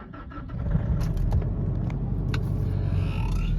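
A Nissan Navara pickup engine is started from cold with the clutch pressed, a short crank catching into a rough, loud idle, with a few small mechanical clicks and squeaks over it.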